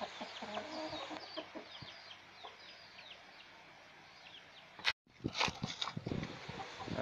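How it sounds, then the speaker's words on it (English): Chickens cluck and murmur in a busy outdoor cluster, with a sudden brief dropout followed by louder close rustling and clucking. "And the chickens like it too."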